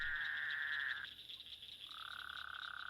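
A frog croaking: a steady, pulsing trill that stops briefly and then resumes. It sounds close, fairly quiet and alone, with no talk.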